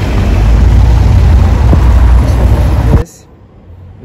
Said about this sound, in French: Et le bruit du V12.